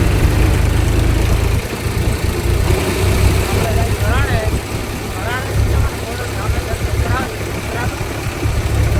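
Tractor engine runs with a loud, steady low rumble while travelling on a road, with some faint squeaks and a person talking over it.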